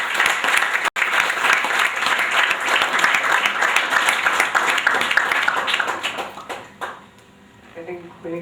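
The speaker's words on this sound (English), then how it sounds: "Round of applause for them too." Sustained audience applause fills a hall at an artist's talk during a photo festival, dense and steady for several seconds before tapering off into scattered claps and a murmuring voice near the end.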